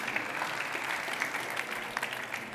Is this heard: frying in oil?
no